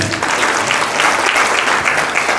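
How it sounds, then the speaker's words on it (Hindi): Loud, dense clapping from an audience at a business talk in Haryana, sustained and even throughout with no talking. "सबसे पहले तो मेरे लिए जोरदार ताली होनी चाहिए"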